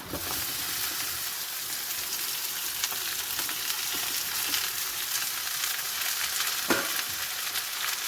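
Okra pieces fry in hot tempering oil with onion, green chilli and curry leaves, giving a dense, even sizzle that holds steady throughout, close by, with a few faint stirring clicks.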